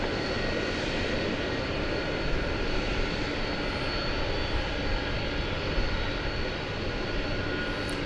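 An American Airlines heavy jet airliner departs a DFW Airport runway after dark, a steady, broad engine roar that holds evenly throughout at a moderate distance.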